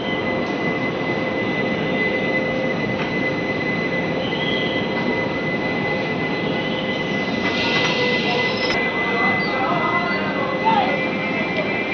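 A Palnadu SF Express pulls out of Guntur Junction, its steady rolling rumble and rail noise continuous and close, with a high wheel squeal running throughout.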